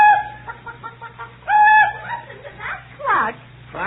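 A voice imitates a chicken, giving a run of short clucks that builds to drawn-out squawks, with a studio audience laughing in the background during a St. Patrick's Day radio comedy broadcast.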